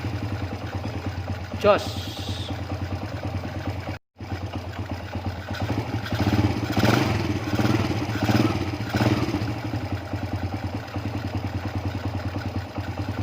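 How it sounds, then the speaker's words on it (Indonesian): A motorcycle engine, just kick-started after its carburetor was reassembled, idles with a steady low mechanical throb and light clatter, a brief surge midway, while someone speaks briefly nearby. "Motor sudah keadaan hidup."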